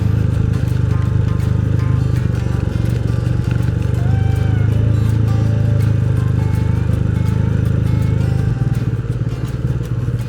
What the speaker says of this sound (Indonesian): jalan sendiri motornya